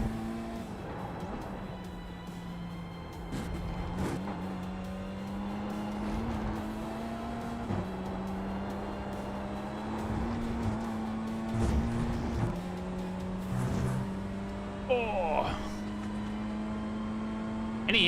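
Steady engine drone of a small four-cylinder car in an eNASCAR racing video game, running at a fairly constant pitch with brief dips as it shifts, moderately loud and continuous with no talk over it.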